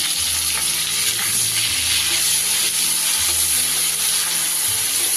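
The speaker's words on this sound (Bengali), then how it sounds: "এবার দাঁড়াগুলোকেও একটু ভেজে নেব।" Crab claws frying in oil in a pan hiss with a dense, continuous sizzle that is loud and close, with faint stirring underneath and no voices.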